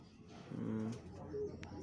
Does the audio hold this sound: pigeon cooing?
yes